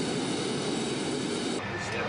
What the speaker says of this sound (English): Give it a little more gas to help the engine come up to speed quicker.